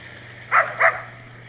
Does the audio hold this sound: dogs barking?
yes